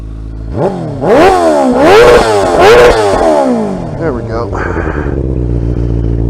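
A motorcycle with a Yoshimura exhaust revs hard several times in quick succession, loud and close, then settles into a rough idle while a person speaks briefly.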